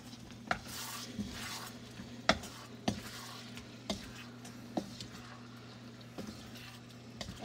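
A coconut sweet chili stir fry is stirred in a pan, with a steady quiet sizzle broken by about ten irregular clacks of a utensil against the pan, close and fairly soft.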